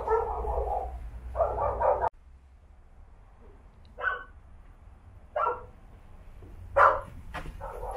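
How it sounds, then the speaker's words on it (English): A pack of angry dogs barks behind a wall in an abandoned-looking site in the former Yugoslavia: a few muffled barks, then scattered louder yips and barks separated by quiet stretches. "Sounds like some pack of angry dogs behind that wall."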